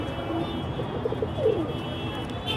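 Pigeons in a loft give soft, brief coos over faint background noise, a few calls spaced through the moment.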